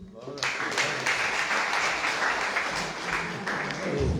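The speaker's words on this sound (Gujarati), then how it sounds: "તાળીઓની ગૂંજ જે છે" An audience applauds after a poetry recital at a literary festival, a dense, sustained burst of clapping from a crowd that rises quickly and stays steady; a voice comes in near the end.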